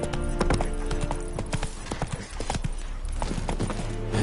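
Roach, the horse in The Witcher 3, gallops with loud, fast, rhythmic hoofbeats close up, a dense clip-clop running unbroken under a thick game background.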